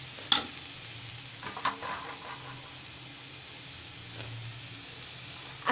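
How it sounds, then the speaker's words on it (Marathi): Jaggery mixture being stirred together in a pan, with soft scraping strokes and a few sharper clinks over a faint background hiss, close by and without any talking. "आणि गूळ आता एकजीव करून घेणार आहे व्यवस्थित।"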